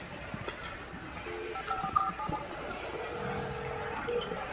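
A telephone is dialed in the video game Alan Wake, with several steady keypad tones over low, noisy game ambience.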